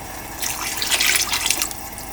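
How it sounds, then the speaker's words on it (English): A glass of water poured into a cooking pot for chicken shami kabab makes a brief, close splashing gush of about a second that swells and then tapers off, with no talking. "We're going to add another glass of water."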